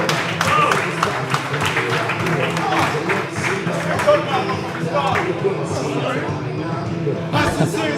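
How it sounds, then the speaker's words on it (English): Rapturous applause and crowd noise fill a white collar boxing fight night arena as a fighter from Italy makes his ring walk, loud and continuous with voices talking over it throughout. "rapturous applause"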